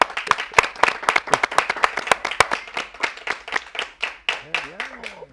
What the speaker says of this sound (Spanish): yo quiero que le demos un aplauso